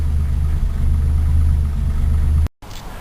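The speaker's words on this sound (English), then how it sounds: "the start motor sounds okay" A 1953 Pontiac's starter motor cranks the engine in a loud, steady low churning rumble for over two seconds before cutting off abruptly, followed by faint residual noise.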